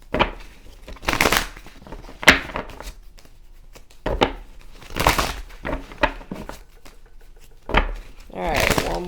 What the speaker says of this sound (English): Some of the same cards are coming out, and y'all hear me over here shuffling hard